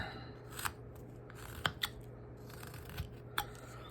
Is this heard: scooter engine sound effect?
no